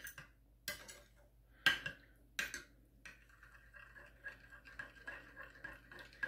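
Stirring lo mein sauce with sriracha: sparse clinks and scrapes of a utensil against a bowl, a few sharp taps followed by softer irregular clicking, close and quiet.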